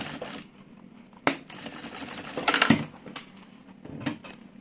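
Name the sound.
sewing machine stitching to lock fabric pieces together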